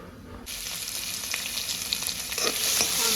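Hot oil frying in a pan, a steady broadband crackle that swells loudly around half a second in and keeps sizzling, with sharper spits and pops growing toward the end.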